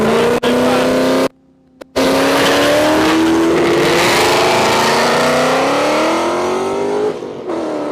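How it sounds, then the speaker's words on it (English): A black Ford Mustang GT 5.0 drag racing on a no-prep airstrip, its loud engine revving and pulling hard through rising gears for several seconds, with a brief cut near the start. "That Mustang sounds pretty nice."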